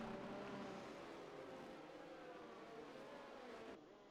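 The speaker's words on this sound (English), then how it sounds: "Engine sounds are decent." Racing cars' engines drone steadily in a racing video game at Imola, a continuous mid-loud hum with shifting harmonic tones that drops off slightly near the end.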